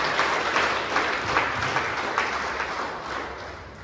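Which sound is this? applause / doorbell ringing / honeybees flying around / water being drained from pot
applause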